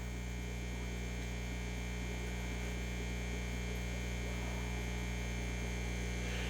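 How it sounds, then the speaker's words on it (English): A steady, loud electrical hum comes from an aquarium air pump beside a fish tank. The drone stays constant and close, with layered harmonic tones and no speech. "I got an air pump that's starting to get loud"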